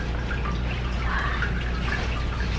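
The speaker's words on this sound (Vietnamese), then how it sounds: "Nước chảy róc rách róc rách." Water trickles steadily outdoors near a shop, a continuous soft splashing wash with light dripping, moderately loud and unbroken throughout.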